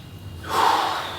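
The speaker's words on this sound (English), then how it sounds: "We're breathing." One sharp, audible breath, a loud inhale or gasp, taken while holding an exercise position during a beginner fitness workout. It is brief and close, with no talking.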